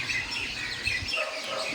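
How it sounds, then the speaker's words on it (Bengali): Many birds chirp and twitter at a railway platform in Darjeeling at dawn, a steady layer of small calls over a constant breezy hiss, with no talking. "এখানে পাখি আছে প্রচুর কিচিরমিচির কিচিরমিচির করে"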